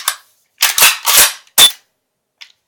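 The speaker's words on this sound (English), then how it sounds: "And you'll hear it click until you just feel tension." Sharp ratcheting clicks come from the magazine tube cap of a Benelli Nova 12 gauge shotgun being screwed down. There are four loud, close clicks in an uneven rhythm and a faint fifth tick after a pause, with no talking.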